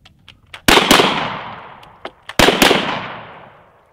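A double-barrel shotgun loaded with factory shells fired at a cowboy action shooting stage: two pairs of loud, close blasts, each pair fired in quick succession and ringing out, with small clicks of handling between them.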